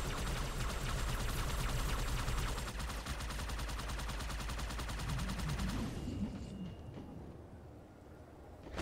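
Video game gunfire keeps up as a sustained rapid automatic rattle, loud and close for most of the clip before cutting off into quieter game ambience.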